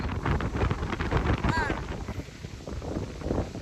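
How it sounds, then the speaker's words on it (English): Strong wind after a hurricane buffets the microphone outdoors in a loud, continuous rough rumble, with a voice heard briefly underneath. "The wind was not blowing this bad."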